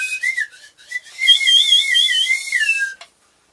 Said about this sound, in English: A beechwood slide whistle.